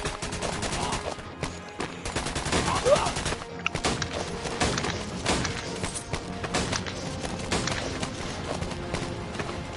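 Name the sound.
Tommy gun firing in D-Day VR video game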